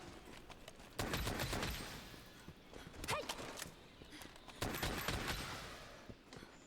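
Bowgun shots ring out in Monster Hunter World: a few sharp, quiet gunshots spaced a second or two apart, mixed with light stepping and movement sounds.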